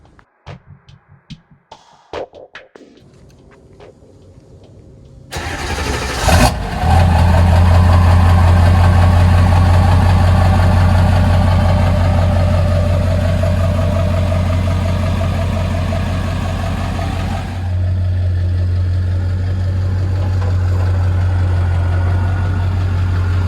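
A Ford 7.3 Powerstroke diesel pickup with a stock turbo cranks briefly after a few clicks, then fires into a loud, steady, low rumbling idle with a faint whine, close by and alone.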